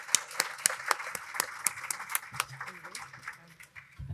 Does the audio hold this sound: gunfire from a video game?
no